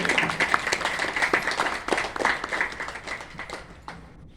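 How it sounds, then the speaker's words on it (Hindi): A Republic Day audience in India applauds in honour of the martyrs, with brisk, fairly close clapping that swells and then tapers off over a few seconds. "जोरदार तालियां हो जाएं शहीदों के लिए।"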